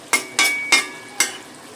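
Bottle gourd and shrimp being stirred in a pan, with four distinct scraping strokes of a spatula, evenly spaced and fairly close, over a quiet background.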